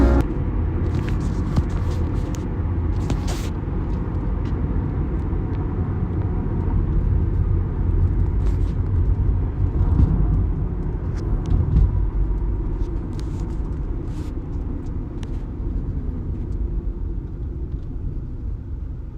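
Steady interior road noise from a moving car, a continuous low rumble with a few faint clicks and rustles on top, no talking.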